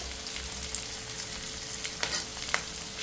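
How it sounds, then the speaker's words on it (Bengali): Chopped onion and ginger-garlic paste hit hot oil in a pan and sizzle with a soft, steady frying hiss, a few faint spatters and pops breaking through, no voices. "দিয়ে দেবো কেটে রাখা পেঁয়াজ, আদা রসুন পেস্ট"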